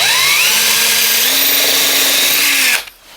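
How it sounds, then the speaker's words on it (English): A power drill bores plug holes into a wall to hold an electrical box, a loud steady whine with the motor pitch shifting slightly before cutting off abruptly near the end. "So we're going to drill, ironically, a couple of holes and put a couple of plugs in just to hold the box in place."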